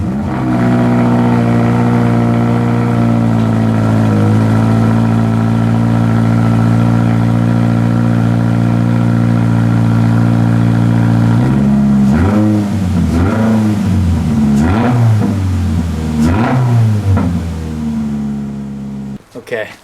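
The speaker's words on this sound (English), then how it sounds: "do you want to know what a GR86 sounds like without any muffler?" A Toyota GR86 engine runs with no muffler, a loud, raspy, droning exhaust at steady idle that then revs repeatedly in rising and falling bursts before cutting off.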